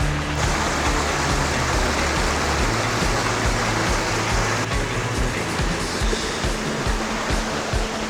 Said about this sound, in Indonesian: dan sekarang ketemu sungai.